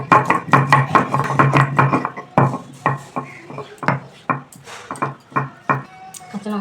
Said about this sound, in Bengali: এবং কাঁচা লঙ্কাটাও বেটে নিচ্ছি।